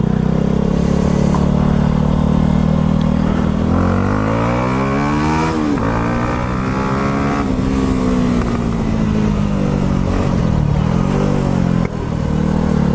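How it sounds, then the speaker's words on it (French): A Yamaha YZF R125 motorcycle engine revs up and down close by, its loud, buzzing pitch rising and falling through several throttle blips, with a few sharp pops in between. "je vais vous montrer un peu l'accélération puis comment elle pétarade"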